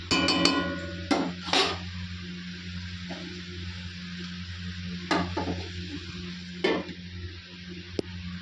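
Cumin paste, salt, turmeric and chilli are sautéed in a pan for a pumpkin curry: a low sizzle runs under several sharp scraping and clinking strokes of a spoon against the pan, close by and without speech.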